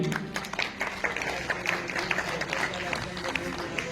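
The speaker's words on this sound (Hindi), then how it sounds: "इनके लिए भी तालियां हो जाए पुनः जोरदार वाली" An audience applauds children being given mementos at a school event, with scattered claps rising to steady clapping under a background voice over a murmuring crowd.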